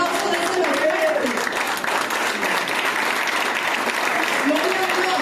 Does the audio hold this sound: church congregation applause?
yes